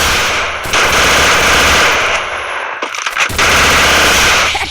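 An MP14 fires in the Free Fire video game in loud, rapid automatic bursts, with a brief pause near the middle before the gunfire resumes.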